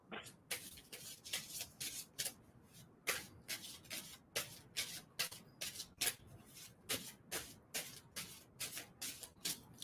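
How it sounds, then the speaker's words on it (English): Tarot cards being shuffled by hand, a close, quiet run of rapid riffling and rubbing bursts repeating in an irregular rhythm, with no talking. "And I'm going to stop shuffling on that."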